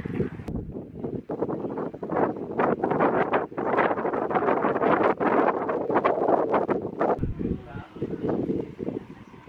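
Strong wind gusts buffet the microphone outdoors beside open water, a loud, rumbling roar that surges and dips almost continuously, with a brief lull near the end.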